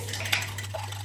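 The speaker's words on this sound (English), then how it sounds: "Give it a whisk." An egg is whisked in a cup, giving brief quick clinks and scrapes of the whisk against the cup over a low steady hum, close and fairly faint, with no voices.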